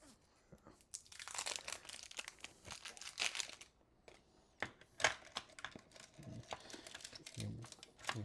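A dog chews and grinds on a toy nearby, making irregular crunching, crinkling bursts that come and go, with some speech-like sound mixed in.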